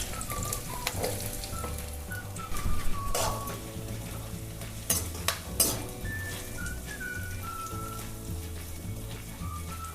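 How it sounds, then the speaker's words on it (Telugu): Onions fry in oil in a pan for a home-style chicken curry: a steady soft sizzle with occasional stirring clatter, under a whistled melody. "ఆనియన్స్ వేసి నీట్గా బ్రౌన్ కలర్ వచ్చేంత వరకు ఫ్రై చేయాలి"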